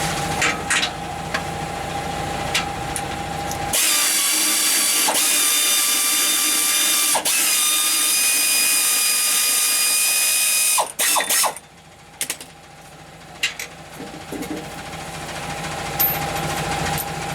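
A ratchet wrench steadily cranks out exhaust bolts on a 2010 Toyota Tundra 5.7 during a Flowmaster FlowFX install, loud continuous clicking close by with a few brief breaks, no talking.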